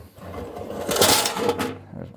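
Coins rattle and clink out of the coin box of a 1979 Valley Dixieland bingo pinball machine, a short metallic jangle that peaks mid-clip and then trails off, close and fairly loud.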